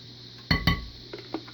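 A spoon knocks twice sharply against a glass bowl while mayonnaise is stirred into cornbread batter, followed by a few softer clinks, all close up with no talk.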